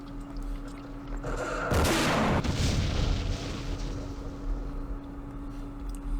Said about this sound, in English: Okay, another firefight. Let's unload this.